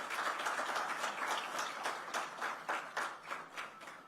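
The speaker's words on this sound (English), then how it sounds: "let's give a very warm round of applause for this" Applause from an audience at a televised state political event, heard as a faint, uneven patter of claps that swells and pulses in loose bursts, with no voices over it.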